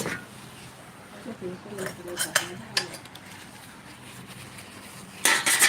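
Cups and a tray clink and clatter lightly while red tea is served, with a few soft knocks and chinks over a low background hum and a sharper rattle at the end.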